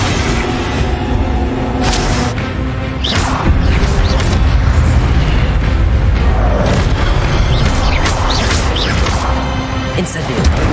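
Incendio fire spell repeatedly cast in Hogwarts Legacy, a dense run of booming whooshes and crackling bursts layered over game music and effects, with a voice speaking at times.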